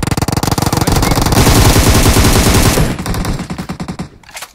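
Rapid automatic gunfire from the mobile battle royale game PUBG Mobile, loud and sustained bursts that thin out into scattered shots near the end, with no talking.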